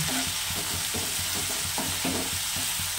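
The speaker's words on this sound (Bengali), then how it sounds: "আর ভালো করে এটা জল দিয়ে কষিয়ে নেব" Spiced masala of cumin, chilli and turmeric powder sautéing with a splash of water in a pan for an amudi fish curry, a steady close sizzle with rhythmic stirring scrapes repeating about every half second, no voices.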